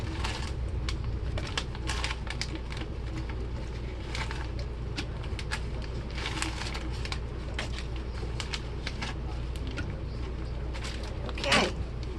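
A sharp knife chops bacon on a cutting board in a home kitchen, giving steady, rapid tapping cuts over a constant low background hum.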